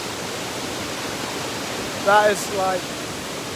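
Waterfall at the edge of a roughly 30-meter drop, a steady broadband rush filling the background close by, while a person speaks briefly over it.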